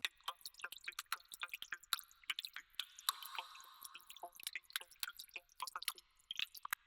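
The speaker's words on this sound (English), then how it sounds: "I just want to control those mouth clicks." Rapid, isolated vocal mouth clicks and small wet smacks removed from a rap vocal by a de-clicking plugin, crisp and close, scattered unevenly with no voice underneath.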